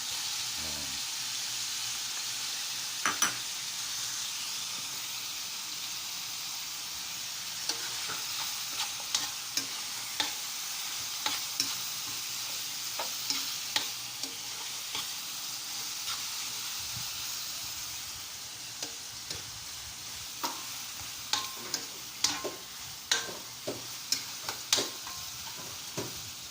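Pork kasim and onions sizzle in a hot pan for pancit habhab, a steady frying hiss broken by frequent scraping and clinking of a utensil stirring, close and fairly quiet, without speech.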